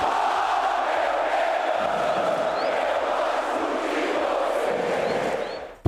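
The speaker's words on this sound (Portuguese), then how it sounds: "Torcida ali feliz, cantando na arquibancada." Flamengo supporters sing together in the stadium stands during a 7-0 home win, a dense, steady roar of massed chanting that holds loud and continuous throughout and then drops away sharply at the very end.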